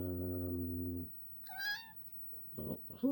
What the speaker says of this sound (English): My cat's here to say hello